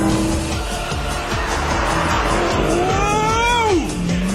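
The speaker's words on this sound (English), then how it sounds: "And again, watch third to fourth." Supercharged Vauxhall Monaro VXR 500 with a 500 bhp LS2 V8 revs hard under full acceleration, its engine note climbing loudly and steadily before dropping sharply at an upshift, then pulling again, heard from inside the car.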